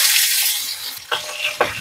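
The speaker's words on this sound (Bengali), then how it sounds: "লাল শাক রান্না করার জন্য মাছের মাথাটা ভেজে দিচ্ছি" A fish head frying in hot oil for a Bengali greens dish, giving a steady bright sizzle with a couple of short louder spits or stirs near the end, close and without talk.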